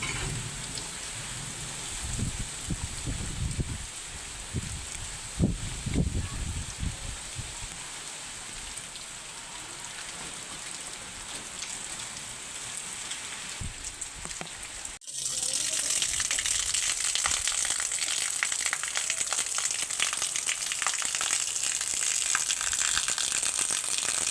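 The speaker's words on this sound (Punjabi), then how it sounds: "ਬਾਰਿਸ਼ ਦੇਖੋ ਬਹੁਤ ਹੀ ਜ਼ਿਆਦਾ ਸ਼ੁਰੂ ਹੋ ਗਈ ਹੈ" Heavy rain pours in a dense, steady roar that grows noticeably louder partway through, with a few low rumbles early on and no voices.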